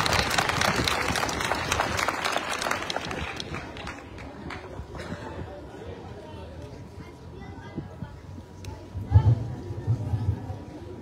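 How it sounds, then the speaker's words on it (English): Audience applause at an outdoor gathering on an athletics track in George, clapping strongest at the start and fading out, followed by a murmur of crowd noise and a speaking voice. "Let's give him a round of applause."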